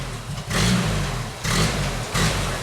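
Engine of a Genie lift revved as the throttle is kicked: three loud surges of rough mid-pitched engine roar separated by brief drops back toward idle, close and harsh, with no voices.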